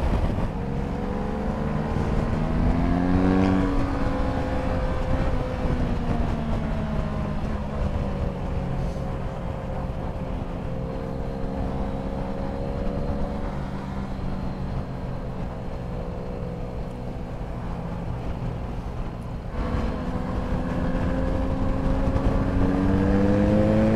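A 2019 Honda CB500X motorcycle engine revs as the rider downshifts to overtake on a road ride, giving a loud, steady drone with its pitch rising and falling through the gears. No one speaks.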